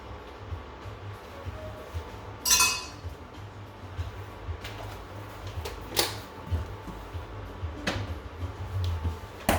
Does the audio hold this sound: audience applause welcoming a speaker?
no